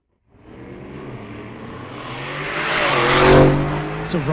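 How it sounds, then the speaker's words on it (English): Diesel drag racing car, a daily driver in the Sportsman Diesel class at Mission Raceway Park, launching down the strip with a loud engine roar that builds steadily, peaks, then starts to fade. "Rob Getz also doubling down in his daily driver, and Rob Getz is taking the lead in the reaction time"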